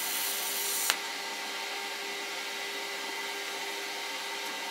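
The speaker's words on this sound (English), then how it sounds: "hold the torch above the weld for a few seconds, let the post gas do its job, cool the tungsten down" A TIG welding torch lets out post-flow shielding gas after the pedal is released: a steady, close hiss that follows a brief click and continues evenly with no talking.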